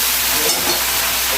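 Boiled chowmein dropped into a hot pan of fried vegetables, giving a steady, loud hiss of sizzling steam that holds evenly and alone throughout.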